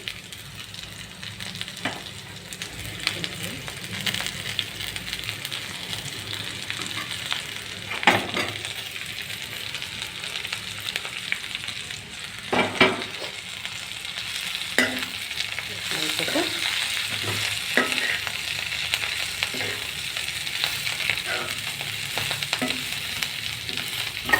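Amaranth leaves frying in a pan give a constant hiss, with intermittent utensil clinks and scrapes as they are stirred, heard at moderate level and close by with no voices.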